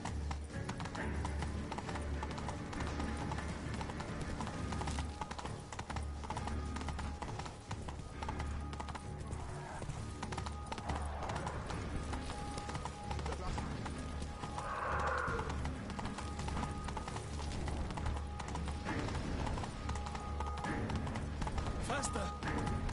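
Roach, the horse in the video game The Witcher 3, gallops with steady rhythmic clip-clop hoofbeats throughout, a brief whinny and light background game sounds mixed in, and a voice talking over the hooves.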